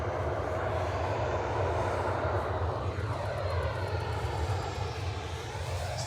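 A Ryanair airliner departs Manchester Airport, its engines producing a continuous broadband roar that holds steady throughout at moderate distance, with no voices.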